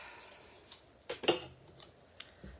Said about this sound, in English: Cut the edge bit off.